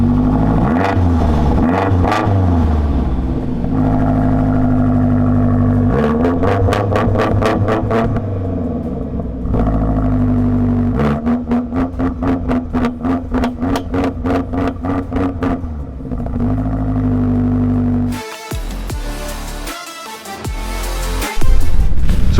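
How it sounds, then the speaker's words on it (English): A 2016 BMW X5 M with 702 horsepower fires up and revs repeatedly, loud and close, with rhythmic throttle blips and a deep exhaust burble between pulls. "Listen to that exhaust now on startup."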